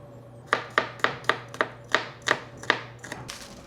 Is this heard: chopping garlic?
yes